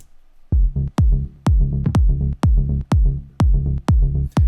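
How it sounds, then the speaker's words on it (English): Deep booming kick drums hit in a steady pattern with a heavy sub bass tail under each hit, a melodic techno mix, loud and upfront with no voices. "So the sub bass and the mid sub with a kick now sound like this."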